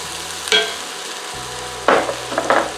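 Chopped corned beef brisket hits a hot frying pan with sharp bursts of sizzling and scraping, close and fairly loud, over a low background hum. A few quick clattering stirs follow.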